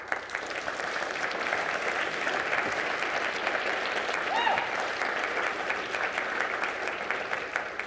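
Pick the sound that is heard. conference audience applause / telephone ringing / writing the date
conference audience applause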